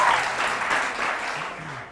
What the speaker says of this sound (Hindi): तालियों से पता चलेगा तुम लोग भी.